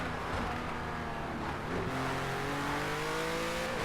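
Race car engine in a racing video game pulling hard in fourth gear, a loud, steady revving whine rising in pitch with a brief shift-like dip partway through.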